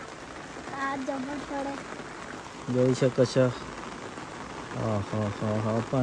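Steady monsoon rain hiss on a rooftop terrace runs through the whole stretch while people talk over it, with louder bursts of voices in the middle and toward the end.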